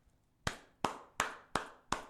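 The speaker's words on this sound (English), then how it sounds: "let me clap for you again" Five sharp hand claps in a steady, slightly slow rhythm, close and fairly faint in a quiet room.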